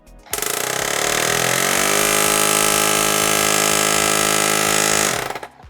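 AUXITO A301 portable tire inflator air compressor running, a loud, harsh, rapidly pulsing mechanical rattle that starts abruptly, holds steady for several seconds and then winds down, with no voices.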